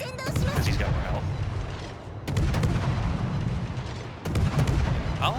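Naval guns on the Halland destroyer in World of Warships fire in loud, booming salvos, with three heavy blasts spaced about two seconds apart over a constant rumble of battle noise.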